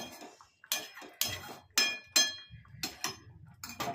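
A metal pot shifted aside on a gas stove makes a run of sharp clinks and clanks, close and distinct, about a dozen metallic knocks in quick uneven succession.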